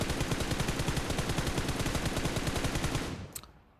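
Rapid sustained automatic gunfire in PUBG Mobile, loud and rhythmic, rattles for about three seconds, then cuts off, leaving a brief sharp click and fading tail.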